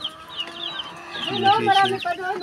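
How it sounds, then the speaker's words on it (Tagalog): Chickens cluck and chirp close by, growing busier and louder partway through, with chick peeps scattered among the hens' calls. "Taba ng mga manok. Mga sisiw."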